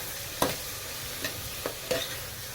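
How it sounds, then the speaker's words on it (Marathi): Onions sautéing in a pan for pav bhaji, a steady low sizzle broken by four sharp scrapes or stirs of a spoon, close and fairly quiet. "कांदा व्यवस्थित परततोय"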